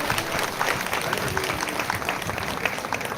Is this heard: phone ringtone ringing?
no